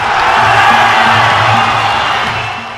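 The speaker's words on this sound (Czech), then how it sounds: "Publikum vycítilo, že tento vývoj není pro domácího borce příznivý a jalo se jej hlasitě povzbuzovat" Loud, steady crowd roar of cheering and shouting for the home fighter Vladimír Moravčík during a Muay Thai bout against Yodsanklai Fairtex, sustained throughout and easing slightly at the end.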